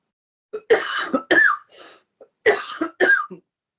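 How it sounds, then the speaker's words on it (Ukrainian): Two clusters of rough coughs mixed with throat clearing, close and fairly loud, separated by a short pause. "ще покашлюю і якось себе приведу до ладу"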